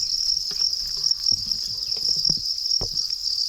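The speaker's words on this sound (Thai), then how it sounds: "จิ้งหรีดพันทองแดงครับ จิ้งหรีดพันทองแดง" Steady, high-pitched chirping of copper-banded field crickets runs continuously throughout, with a few soft low thumps and rustles underneath.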